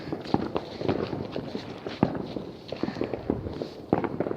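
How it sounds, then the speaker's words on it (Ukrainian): New Year's Eve fireworks going off in the distance, a scatter of sharp pops and cracks at irregular intervals, some louder bursts standing out above a softer crackling background. "Вот там, вот видите, далеко салюты уже."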